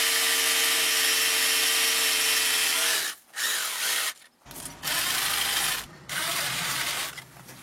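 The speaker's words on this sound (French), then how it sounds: "Là, je suis sur des forêts SDS+, et le perforateur, il est SDS+. On se met dans le mode perçage à percussion." SDS+ rotary hammer drill running in hammer-drilling mode, a loud steady harsh roar in several bursts with short pauses, close up and without speech.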